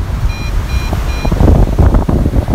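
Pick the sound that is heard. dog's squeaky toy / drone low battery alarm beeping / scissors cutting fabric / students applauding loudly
drone low battery alarm beeping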